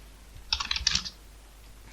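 Quick burst of keystrokes on a computer keyboard as Linux shell commands are typed, a short cluster of clicks lasting about half a second, close and fairly quiet, with no talking.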